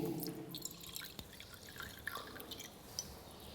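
Liquid drips from the stopcock of a separatory funnel into a beaker in a chemistry lab, a few faint, sparse drops landing at irregular intervals over a quiet background.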